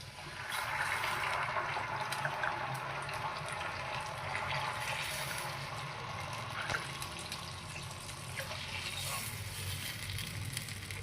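Water pours steadily into a pan for rava upma in a home kitchen, a continuous close splashing hiss that runs unbroken for the whole stretch, with no talk.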